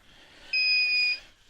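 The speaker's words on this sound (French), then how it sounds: "j'ai été alerté par les bip bip" An electronic alarm from a garden solar power setup with an inverter and charge controller gives one steady high-pitched beep lasting about half a second over faint background hiss.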